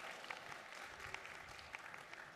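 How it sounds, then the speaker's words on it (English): An audience at a tribal mental health summit in Lawton, Oklahoma gives a round of applause, a quiet, fairly distant patter of clapping that stays even throughout, with scattered sharper claps and no talking. "Round of applause."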